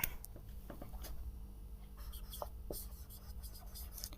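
Teacher writing on a board in a classroom, a quiet run of soft scratchy strokes and taps arriving in short bursts over a faint low room hum.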